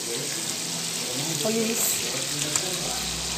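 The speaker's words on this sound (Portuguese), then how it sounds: "Fritando aqui" Sausage (linguiça) fries on low heat, a steady close sizzle filling the clip while a person speaks briefly over it.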